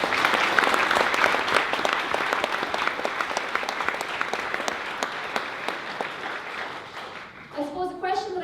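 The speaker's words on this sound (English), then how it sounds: "So everyone in Armagh deserve a warm round of applause for everything you've done so far as well." Warm audience applause from a crowd, dense rapid clapping that holds steady for several seconds, then thins out and fades as a voice begins speaking near the end.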